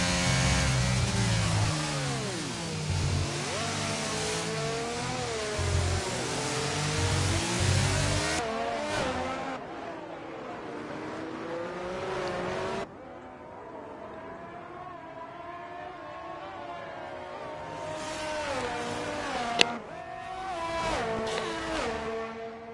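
Alpine and Ferrari Formula 1 race car engines in a racing video game scream and rise through the gears in long revving sweeps, loud and close, easing off midway and then building again.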